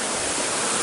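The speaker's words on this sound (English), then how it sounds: "There's just like small steps of water falling down." Small stepped waterfall in Pirenópolis, Brazil, water spilling down a series of little drops, giving a steady close broadband rush with no breaks and no voices.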